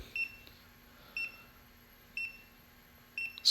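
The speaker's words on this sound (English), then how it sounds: "Scooter is beeping." A Segway Ninebot MAX electric scooter beeps while pairing, giving four short, evenly spaced high double-chirps about one second apart, clear but modest in level over a quiet room with no talking.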